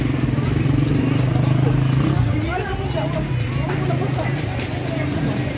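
A motorcycle rides through a crowded night market in Tagum City, its engine hum running steadily through dense crowd babble and clatter, close and fairly loud.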